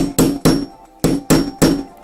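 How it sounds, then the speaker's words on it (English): Hammer striking a tool while a handmade journal is being made, five sharp metallic blows in an uneven rhythm, close and loud with no talking. "and then with the hammer you're gonna"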